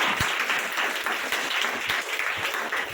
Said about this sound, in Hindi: सबको आवाज आया तो ताली बजाना चाहिए